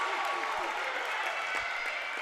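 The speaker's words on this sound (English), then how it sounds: "This Centerburg crowd erupts." A high school girls basketball crowd cheering during a Centerburg versus East Knox game, a faint, steady roar of many voices with scattered claps in the background.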